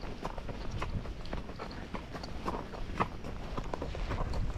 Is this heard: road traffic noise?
no